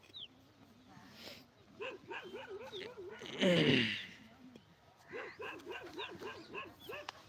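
A dog on an outdoor training ground barks in a run of repeated rhythmic barks and yips, close and clear, broken by a burst of louder noise midway before the barking resumes.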